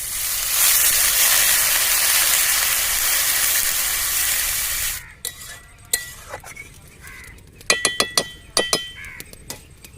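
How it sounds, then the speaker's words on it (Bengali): Water poured into a hot pan of soybean curry spiced with chilli powder, turmeric and salt gives a loud, steady hiss for about five seconds, then gives way to sharp clinks and scrapes of a utensil against the pan. "এবার আমি জল দিয়ে দেবো খানিকটা"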